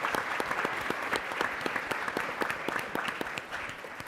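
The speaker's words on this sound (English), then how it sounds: "I want to give the STEM PIs and the staff and all of those who make this all happen a round of applause" A conference audience at a STEM symposium plenary gives a brisk round of applause, steady overlapping claps filling the room at a moderate level before tapering slightly at the end.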